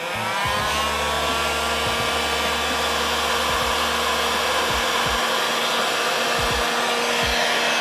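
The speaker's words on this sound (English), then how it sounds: "I'm gonna hit it with the heat gun now." A heat gun blowing on a plastic LED light housing: a loud, continuous whirring roar of air, steady throughout and close, with faint clicks and handling bumps underneath and no talking.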